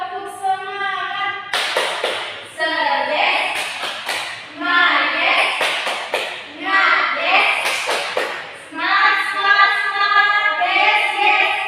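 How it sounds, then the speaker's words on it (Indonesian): A classroom of students doing rhythmic tepuk semangat spirit clapping, sharp claps in quick patterned bursts that alternate with children's chanted voices, repeating in several cycles. "Bisa coba kita sama-sama tepuk semangat"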